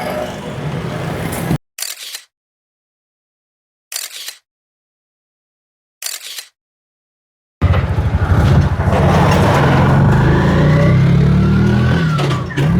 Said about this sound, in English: Again, it's a very busy intersection, lots and lots of traffic.